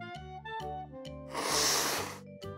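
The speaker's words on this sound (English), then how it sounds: "we need to blow his nose with a handkerchief like this one." A puppy's nose is blown into a handkerchief, heard as a sustained breathy blowing burst in the middle, set against a steady tonal background with rhythmic pulses.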